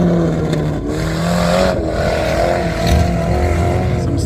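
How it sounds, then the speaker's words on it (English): A car engine revs hard and loud at a muddy racing event, a sustained roaring drone with rising and falling pitch and a brief dip before climbing again, heard close without speech. "Some serious revs going on there, Dan."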